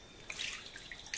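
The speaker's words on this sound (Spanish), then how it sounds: "le he puesto 4 vasos de agua" Water poured into a pan for arroz al tun tun with saffron and diced potato, a short splashing trickle with a few bright drips, fairly close and alone.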